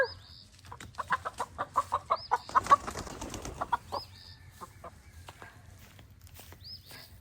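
Several backyard homestead chickens cluck in a quick, rhythmic series of bursts, with higher calls above them and a steady low background hum.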